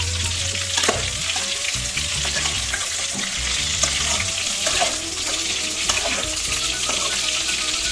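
Cut vegetable pieces fry steadily in a pan with a dense, constant sizzle, and occasional clinks and scrapes of stirring are heard close by.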